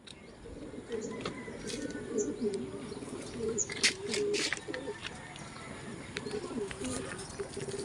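Racing pigeons coo steadily at a loft during club training, a low continuous murmur of many birds with occasional chirps and wing flaps, and someone talks over them throughout.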